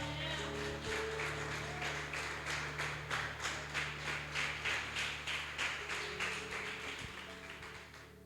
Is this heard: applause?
yes